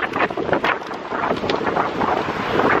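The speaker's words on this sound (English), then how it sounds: "so windy." Strong, gusting wind buffets the microphone in a loud, continuous roar, rising and falling throughout with a faint hint of water in the background.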